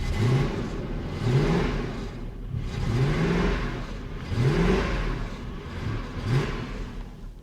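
Lexus LS400 sedan engine running roughly, a rough uneven idle with rhythmic surging swells about once a second, close and fairly loud, with no voices over it.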